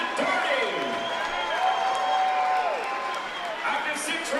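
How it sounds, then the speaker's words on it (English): Crowd applause and cheering fill a boxing arena after the Matt Doherty vs Danny Morales bout, a steady dense wash of clapping throughout, with faint voices and tonal sounds mixed underneath. "Have a nice round of applause once again for Melrose and Matt Doherty."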